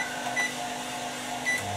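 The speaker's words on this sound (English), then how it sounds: "with the hairdryer and the microwave going" A microwave oven runs in a steady hum while heating popcorn, with a hairdryer also going, powered by an Evolithium battery system; a faint beep-like tone appears twice over the continuous drone.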